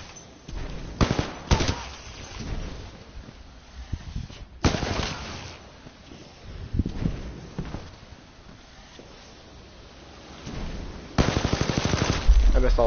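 Gunfire in the shooter game Titanfall 2 comes in several sharp bursts and single loud shots separated by quieter gaps, ending in a rapid automatic volley.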